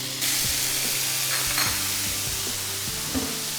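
Meat frying in hot oil that was already used for cooking, a dense, steady sizzle up close with occasional soft clinks and stirring sounds underneath.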